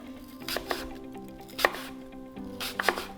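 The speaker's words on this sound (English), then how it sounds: "I like to slice the apples in half and then just cut them into thin slices." Knife slicing apples into thin slices on a cutting board, a handful of crisp, separate cuts spaced irregularly, close and fairly quiet.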